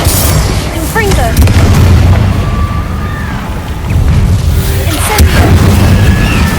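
Confringo spell blasts erupt in Hogwarts Legacy as two loud booming explosions, one early and one later, each followed by crackling debris and swooshing magical effects over ambient game sound.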